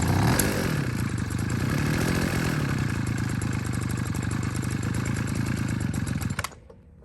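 A small engine on an ammo box scooter, with its carburetor recently adjusted, runs hard at speed with a loud, steady, buzzing drone that holds for several seconds before cutting off abruptly near the end.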